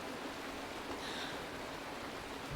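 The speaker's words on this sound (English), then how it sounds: "Mommy, the rain. It's raining." Steady rain falls in Honkai: Star Rail, a soft, even hiss of drops that continues without pause, faint and unbroken, with no talking over it.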